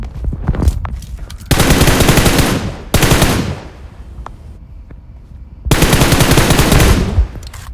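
Bursts of automatic gunfire in a video game, loud and close, with several long sustained volleys separated by short pauses and scattered single shots, no talking.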